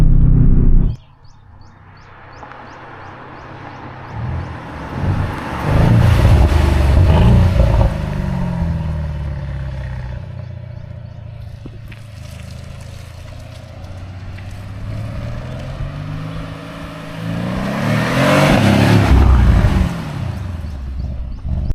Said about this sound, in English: Now I'm sure you can tell the engine is running